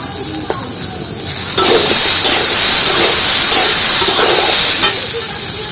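Chopped onion tipped onto ginger in hot oil bursts into a loud, close hiss and sizzle that holds steady to the end, after a quieter stretch with faint clinks.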